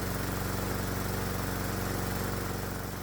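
A hot bulb semi-diesel lawnmower engine running on atomized diesel fuel with a normal spark plug, hot from running, chugs at a steady fast idle. Its even, rapid firing pulses sound close and continuous, with a strong mechanical rattle and no voices.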